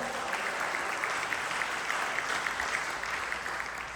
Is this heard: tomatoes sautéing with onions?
no